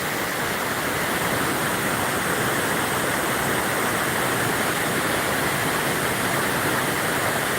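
Rushing water of a full-flowing waterfall, a loud, dense, continuous roar close by with no breaks or talk.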